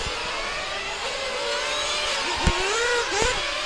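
Radio-controlled GT race cars at the 2015 IFMAR GT World Cup Final scream down the back straightaway, a continuous high engine whine with rising pitch sweeps as cars pass, fairly loud.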